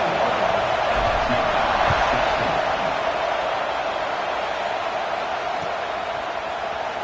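A stadium crowd roars in a steady, loud wash of cheering just before kickoff at an LSU versus ASU college football game, sustained and unbroken throughout.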